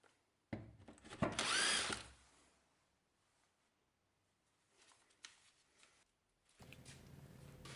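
A power drill, likely a drill press fitted with a 20mm Forstner bit, bores into a wooden panel in one loud, close burst of about a second and a half, then gives way to quieter shuffling and workshop handling noises.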